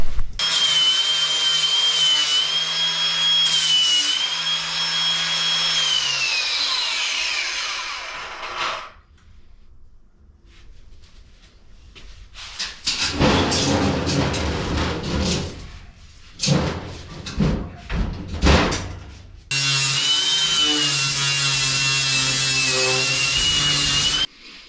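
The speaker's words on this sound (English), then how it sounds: "So I'm gonna grind that down, clean that up" A handheld power grinder cleans paint off metal to prepare it for welding in a workshop, whining loudly and steadily, cutting out, then returning in rough bursts before a final sustained run.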